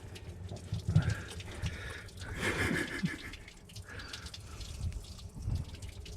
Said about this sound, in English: Just draining the radiator, the rust out of it?